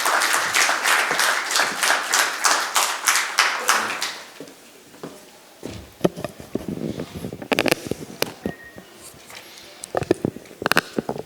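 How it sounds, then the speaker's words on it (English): An audience at the Bombay Chamber CEO AI Conclave applauds Rajiv Anand as he comes to the dais. Loud, rhythmic clapping lasts about four seconds, then fades into a quieter room with scattered sounds and speech. "A huge round of applause for him."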